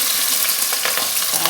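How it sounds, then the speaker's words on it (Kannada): Chopped onion and curry leaves fry in hot oil in a pan while making vegetable pulao, giving a loud, dense, unbroken sizzle up close with faint stirring scrapes underneath. "ಈಗ ಈರುಳ್ಳಿ, ಕರಿಬೇವಿನ ಸೊಪ್ಪು ಹಾಕ್ತಾಯಿದ್ದೀನಿ."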